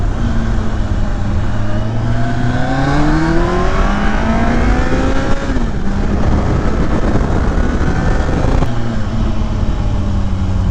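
A 2020 Kawasaki Ninja ZX14r engine revs loud and close, climbing through the gears in rising sweeps with a brief dip at each shift, the roar steady and continuous with no voices.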